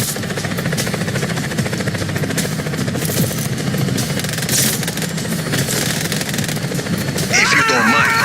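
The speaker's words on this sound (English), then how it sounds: "Helicopter inbound. Heading to AO." Helicopter arriving in the video game Just Cause 4, a steady rotor and engine drone with chopping pulses, loud and close, mixed with other game noise and bursts near the end.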